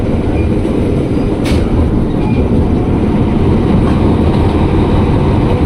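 An electric commuter train departs Cawang station in Jakarta, rumbling steadily close by, a continuous low mechanical roar with faint rail noise and no voices.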